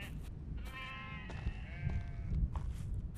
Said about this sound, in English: They're all sheep.